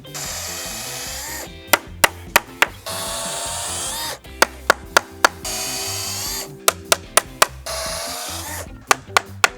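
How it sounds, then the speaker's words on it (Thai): A nail gun fires nails into a 70-centimetre wooden brace, giving sharp, loud cracks in quick clusters of three or four, separated by stretches of a steady whirring machine tone. "ยิงตะปูเข้าตรงนี้"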